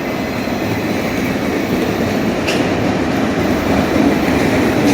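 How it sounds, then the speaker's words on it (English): A Union Pacific freight train of mixed freight cars and auto racks rolls steadily past at close range near Oakland Jack London Square, with a continuous loud rumble and faint wheel clatter throughout. "This is half mixed freight and half auto rack."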